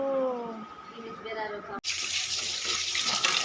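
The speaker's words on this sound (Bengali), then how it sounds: "এখানে মাংসটাকে ভালো করে ধুয়ে পরিষ্কার করে নিচ্ছি" A voice is heard briefly before running tap water bursts on and pours steadily while meat is washed under it, a close, bright splashing rush that continues to the end.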